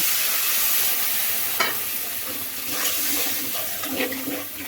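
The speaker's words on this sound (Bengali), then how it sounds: "পানিটা দিয়ে ভালো মতন কষিয়ে নেব" Spice masala of turmeric and chili powder for a chicken gizzard and liver curry with bottle gourd sizzles steadily in a pan after a little water is added, with a few scraping stirs, no talking.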